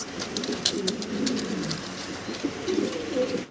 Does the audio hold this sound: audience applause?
no